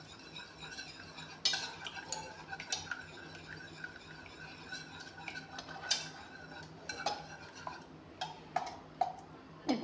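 Eggs being whisked in a bowl, with quick irregular metallic clinks and taps of the utensil against the bowl, close and moderately quiet, no talking.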